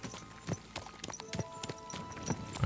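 An expensive-looking horse in Kingdom Come: Deliverance 2 clip-clops along a road, quiet rhythmic hoof strikes spaced about every half second, fairly faint with no speech over them.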